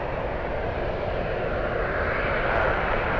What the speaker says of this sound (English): there it is, the 777. Big 777, big boy 777, heading off to Manila today.